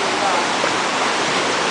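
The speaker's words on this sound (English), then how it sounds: "There's a river." A river runs through rainforest near El Valle, Panama, producing a loud, even rush of flowing water that fills the whole moment without a break.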